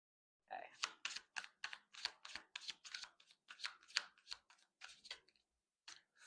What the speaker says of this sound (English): I'm just going to give it a quick little shuffle.